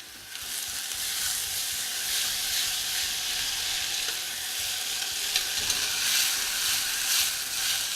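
Corn kernels sizzle in a hot pan on top of sautéing leeks, a steady, bright frying hiss that continues evenly throughout.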